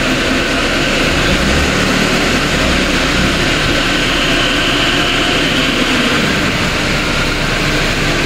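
A car engine revs during a smog safety test, producing a loud, sustained, droning roar that stays even and close throughout, with no talk over it.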